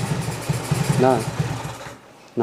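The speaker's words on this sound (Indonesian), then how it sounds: "apabila ini ditutup pada bagian atas lubang main air blade-nya, ini akan mengalami kondisi mesin mati ya" A carbureted Honda Beat scooter engine idles roughly with a faulty automatic choke and the main air jet hole covered, chugging unevenly before it stalls into near silence, then a brief clunk follows.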